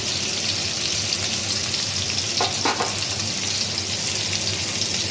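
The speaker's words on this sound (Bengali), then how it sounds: "তো আমড়াগুলো একটু ভালো করে ভেজে দেবো" Hog plums sizzle in a pan with salt and turmeric, a steady, close, fairly loud frying hiss that runs throughout, with a brief stirring scrape near the middle.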